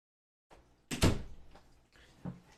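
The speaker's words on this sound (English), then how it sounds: "I slam the door." A door slams shut with a loud, close thud, followed by a softer knock or bump a second later; no one speaks.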